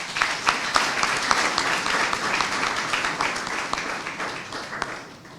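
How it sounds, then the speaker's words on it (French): An audience at a conference on African integration applauds steadily and densely. The clapping is loud and sustained for several seconds and fades slightly near the end. "Si on peut l'applaudir, s'il vous plaît"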